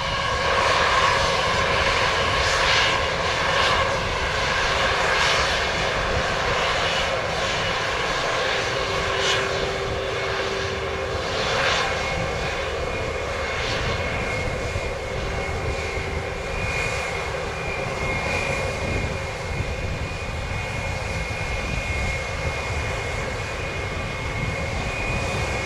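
A Delta airliner takes off at Montego Bay airport in Jamaica, a steady, loud engine roar holding for the whole stretch with a broad rumble and faint whining tones on top.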